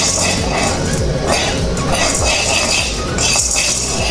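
Chickpeas frying in a pan, a steady close sizzle with clinks and scrapes of a utensil against the pan, and a voice talking over it.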